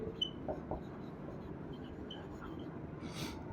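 Pen or marker writing on a surface during a Class 10 algebra lesson, a soft continuous scratching that stays faint and steady, with a brief brighter scrape near the end.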